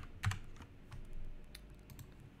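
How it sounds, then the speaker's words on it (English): Keys tapped on a computer keyboard, a few soft clicks with one louder double press at the start, quiet and close, with no talking. "No, I can't type, really, I can't type."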